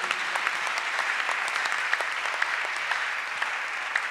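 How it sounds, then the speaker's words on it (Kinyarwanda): A church congregation at a Tuesday service claps enthusiastically, a dense, steady round of applause with sharper individual claps standing out, no one speaking. "amashyi menshi ku mwami Yesu."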